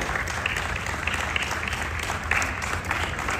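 Sustained applause from an audience at a book-year opening event at a museum, a steady dense wash of clapping with no talk over it.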